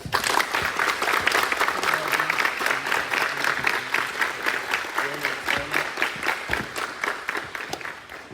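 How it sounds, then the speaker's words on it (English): Sustained applause from a group at a cadet award ceremony, steady clapping filling the whole stretch before tapering slightly at the end. "Round of applause."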